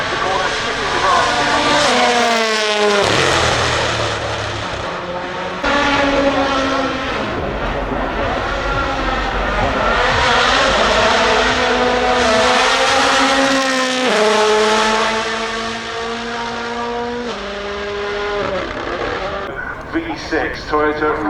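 Toyota V6 off-road race car driving at a festival of speed, a loud engine roar that revs up and down through gear changes, heard under continuous commentary.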